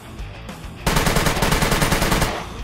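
Automatic gunfire in the survival video game SCUM comes as a rapid, evenly spaced burst of loud shots. It follows a short quiet lead-in and runs for about two seconds, with no talking over it.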